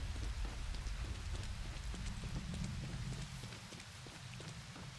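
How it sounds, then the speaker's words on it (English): Rain pours steadily in an open-world survival video game, a dense close patter of drops with faint hoof-like taps, continuous and alone without talk. "it's going to quit raining"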